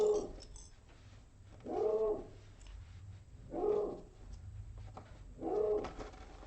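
A pet dog barks at home during an indoor sewing session, three evenly spaced, moderately loud barks with quiet pauses between them and no talking.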